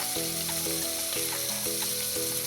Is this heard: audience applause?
no